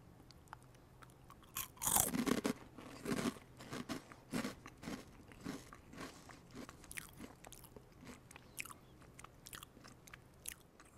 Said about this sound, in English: Let's taste the potato fits.